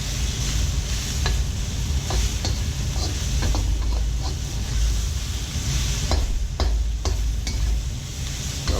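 Chicken, napa cabbage and mushrooms stir-fried in a pan: a steady sizzle with intermittent scraping and clicking as a utensil moves the food against the pan bottom, close and continuous, with no talk.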